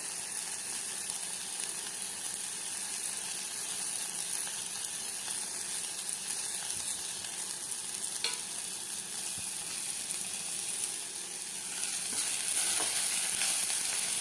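Masala with gram flour and salt sautés in a pan for a quick side dish, making a continuous soft sizzle with occasional stirring scrapes, close and steady for the whole stretch and slightly louder near the end.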